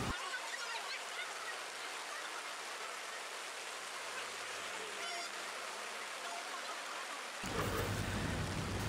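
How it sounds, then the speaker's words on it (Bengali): Heavy downpour falling outdoors on an afternoon, a dense steady hiss of rain throughout, turning louder and rougher near the end. "লেটস এনজয় দ্য বৃষ্টি।"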